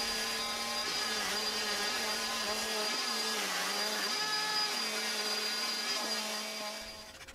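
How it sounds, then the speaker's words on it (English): An orbital sander whines steadily across a wooden guillotine-style napkin holder, a loud continuous motor drone with shifting pitch as it works the wood, easing off near the end. "it was just a matter of hitting it with the orbital sander a little bit to clean things up"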